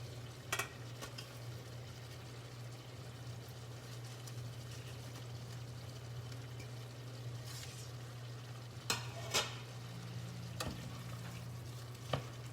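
A pot of short ribs with fresh herbs is stirred gently, a soft simmering sizzle under a low steady hum, broken by a few sharp spoon knocks against the pot.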